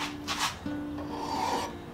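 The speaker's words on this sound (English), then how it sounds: "You really want to be careful when you're working with a file and a lathe." A hand file rasps against metal spinning on a lathe, making a close, continuous scraping with a few stroke-like surges and a steady underlying tone.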